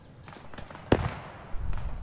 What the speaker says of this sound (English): They had mortars.